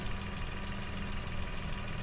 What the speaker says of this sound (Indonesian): Ini mic-nya kita deketin mesin biar kedengaran suara mesinnya.